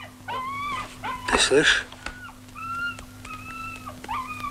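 A dog whimpers in a series of high, wavering whines, close by, with a brief burst of louder voice partway through.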